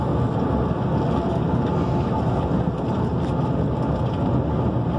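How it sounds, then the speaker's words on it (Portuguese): Loaded cargo truck accelerating on a road, a loud, steady low engine rumble with heavy broadband roar and wind buffeting the microphone, constant for the whole stretch. "Acelerando, galera. Eu gosto de acelerar até o 1500."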